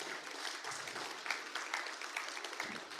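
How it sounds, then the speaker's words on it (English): Audience applause at an archaeology conference awards session, a steady wash of many hands clapping that keeps going from start to finish, with brief louder bursts and no voices over it. "So if we can give them all a collective round of applause"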